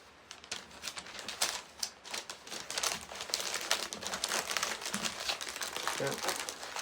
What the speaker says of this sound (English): we'll crinkle up some of these for filler